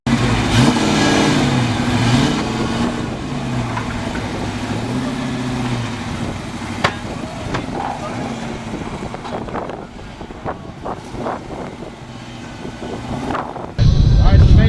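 A 1986 Mustang GT with a manual gearbox runs on a dyno at an LMR event, its engine droning loud and continuously with rising and falling revs and wind buffeting, while people talk nearby.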